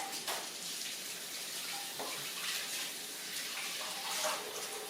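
Tap water runs steadily into a kitchen sink during handwashing, a soft, continuous splash with a few light knocks and clatters.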